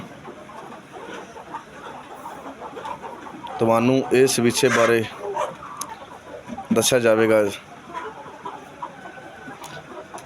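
Desi chickens on a 500-bird poultry farm cluck and squawk in two loud, harmonic bursts over a quieter background, while a person talks nearby.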